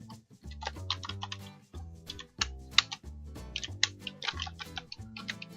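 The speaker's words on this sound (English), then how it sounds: "I will type biodata" Fingers type on a computer keyboard while entering text into WordPad on Windows 7, producing irregular bursts of close, crisp key clicks with short pauses over quiet background music.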